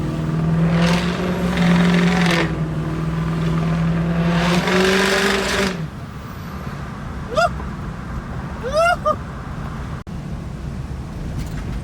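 A large BMW 6.0-litre engine revs hard with a deep, rumbling roar for several seconds, then drops to a rough idle punctuated by a few short squeaks.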